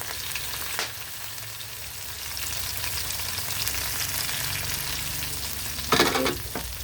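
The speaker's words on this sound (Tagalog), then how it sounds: "ginigisa na natin" Balbacua ingredients sautéing in a pan give off a steady, close sizzle with occasional stirring scrapes and a brief louder flare near the end, and no voices.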